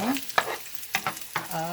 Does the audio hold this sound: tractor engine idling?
no